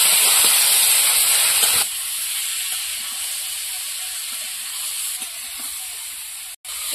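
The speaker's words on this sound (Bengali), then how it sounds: "এবার ভেজে রাখা চিংড়িগুলো দিয়ে দেবো। ভালো করে একসাথে কষিয়ে নেব।" Fried prawns tossed into a pan with potatoes and cauliflower give a steady broadband sizzle and hiss that softens after the first couple of seconds, then continues close and even with a brief dip near the end.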